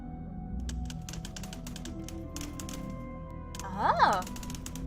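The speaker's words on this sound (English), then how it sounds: "It's a typewriter." Typewriter keys clacking in the video game Lake Ridden, a quick cluster of mechanical strikes and a ding over steady game ambience, with a person talking throughout.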